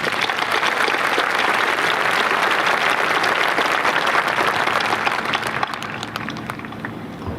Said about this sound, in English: Let's give a round of applause for our teachers.